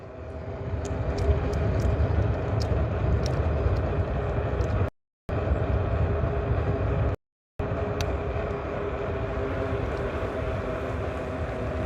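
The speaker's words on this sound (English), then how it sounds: "Some train I'm hearing." A train passes near a road during an e-bike ride near Hartsfield Airport, heard as a steady, loud low rumble and roar that holds throughout, broken by two short gaps of silence.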